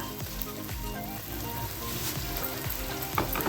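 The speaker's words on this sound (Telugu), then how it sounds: "ఇది కూడా కొద్దిగా యాగనిద్దాము ఆయిల్లో." Ginger paste frying in hot oil for chicken biryani, a steady close sizzle running throughout with faint tonal background sounds.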